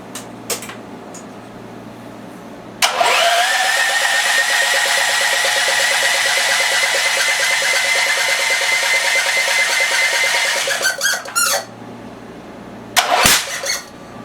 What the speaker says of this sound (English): We're gonna give her a crank without choke and hope for the best